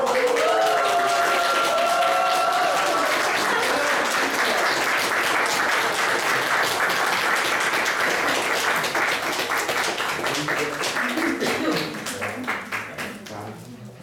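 Applause from a seniors' entertainment-show audience after a Miss Staré koleno contest winner is announced, dense steady clapping filling the hall with a brief voice or tune at the start, thinning out toward the end.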